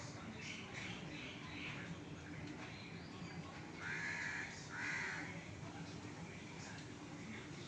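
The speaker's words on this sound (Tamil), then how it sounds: "காக்கா கத்திக்கிட்டே இருக்காச்சும் மைனாவும் கத்திக்கிட்டு இருக்கு" Crows caw and myna birds call outdoors, the harsh caws repeating at a moderate distance while several loud squawks stand out near the middle over a constant noisy background.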